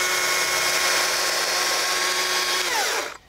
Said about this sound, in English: This saw really is amazing.